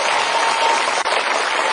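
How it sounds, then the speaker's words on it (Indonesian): Studio audience applauding at a televised talent competition, dense continuous clapping throughout, loud and close with a brief dip near the middle. "boleh tepuk tangan untuk Hari."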